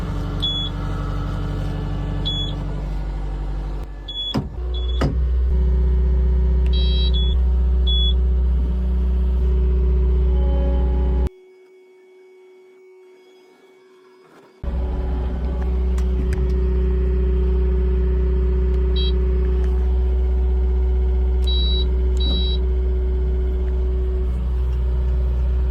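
Skid steer loader engine starting up and idling, a steady low loud drone with intermittent high electronic beeps, one brief cut to near silence mid-way, then the engine running on.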